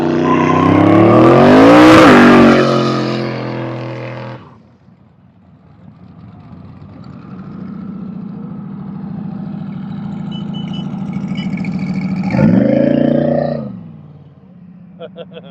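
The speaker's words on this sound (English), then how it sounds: "we'll go back up here for a few more burnouts" Hot rod drag cars revving during burnouts at a drag week route stop: a loud, close engine roar climbing and fading at the start, a quieter sustained rumble through the middle, then a second sharp rev near the end.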